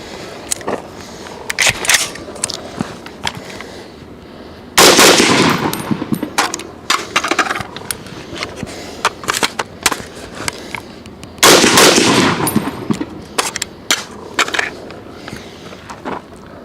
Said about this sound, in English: Starting with the Lancer mag again, we're going to drop straight out of the bottom, let it hit on its butt, see what happens.